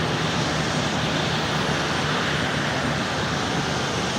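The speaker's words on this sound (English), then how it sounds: "There's the 321 Neo that arrives from Melbourne a short while ago." An Airbus A321neo jet at Brisbane Airport, arrived from Melbourne, makes a steady, loud broadband roar that holds evenly throughout with no pauses and no voices.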